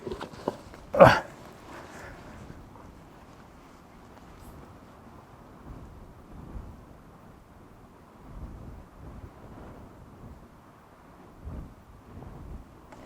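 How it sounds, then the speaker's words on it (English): Outdoor wind buffets a camera microphone during a scope camera test, making intermittent low rumbling gusts after a sharp knock near the start. No one speaks. "this wind is terrible"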